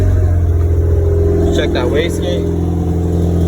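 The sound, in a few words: turbocharged car engine test fire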